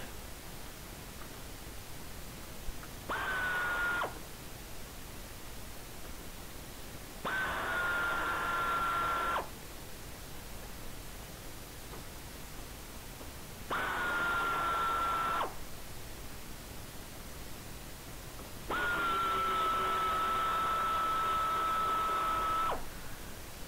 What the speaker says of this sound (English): We're gonna start with these 4 Torx screws on the top.